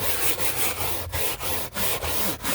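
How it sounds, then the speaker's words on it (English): A brush scrubs a car interior with soapy cleaner, a close, rough rubbing in quick back-and-forth strokes with brief pauses between them, heard alone. "You want to take your brush and just start scrubbing at it."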